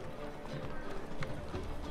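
Hooves of Roach, the summoned horse in The Witcher 3, clip-clop steadily in a trot over a dense game soundscape, with a voice faintly audible in the mix.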